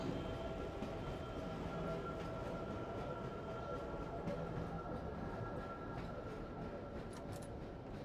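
A subway train rolls steadily through a tunnel in the Half-Life video game, a continuous low rumble of wheels on rails with a faint mechanical hum, moderately loud and unbroken throughout.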